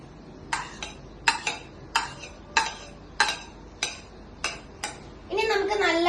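A spoon stirring curd with crushed ginger, shallots and green chilli in a bowl gives a run of about nine sharp clinks and scrapes against the bowl, spaced irregularly, with a brief voice near the end.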